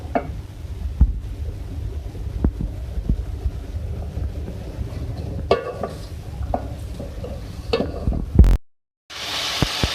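Beef fries with ginger garlic paste in a pot, a low sizzling hiss broken by scattered scrapes and knocks of stirring, then a brief dropout near the end.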